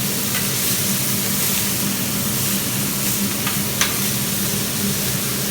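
Steady, loud sizzle of food searing on a Wood Stone gas plancha, a continuous crackling hiss with a few sharper pops and no talking.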